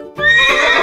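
A horse neighs once, a loud close whinny that starts abruptly and holds strong for the rest of the moment, with no voices around it.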